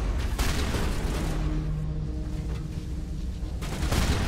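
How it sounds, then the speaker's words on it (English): Shotgun blasts in the sci-fi shooter Mass Effect, heavy booming gunfire at steady loudness over a dense wash of combat noise, with no talking. "I'm having fun with this shotgun."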